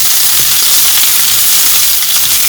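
Pearl onions and shallots hit hot oil over a high flame, raising a loud, dense, continuous hiss of frying that stays even and close throughout with no voices.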